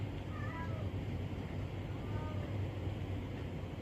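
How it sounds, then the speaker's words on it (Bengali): A house cat meows a few times, fairly faint and partly buried under a steady low hum, with no clear talking. "কি হয়েছে, ওদিকে ম্যাও ডাকছে?"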